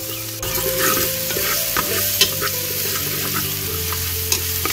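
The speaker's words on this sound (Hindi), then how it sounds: "गार्लिक को थोड़ा सा भुनेंगे पहले" Grated garlic frying in a pan, a loud close sizzle with crackling pops and the scrape of stirring throughout, no voices.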